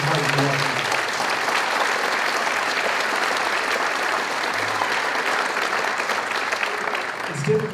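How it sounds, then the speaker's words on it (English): A school concert audience applauds 7th and 8th grade band students with sustained, fairly loud clapping over about eight seconds, a few voices and cheers mixed in near the end. "I'd like to give an extra round of applause for our 7th and 8th graders"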